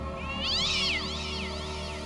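A cat lets out a drawn-out, wavering yowl, high and strained, one long cry that swells and then trails off.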